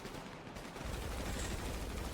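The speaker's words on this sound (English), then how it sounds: "Why are you shooting us?" Rapid gunfire during a police chase in a roleplay video game, a dense barrage of shots over about two seconds, harsh and loud with no pause.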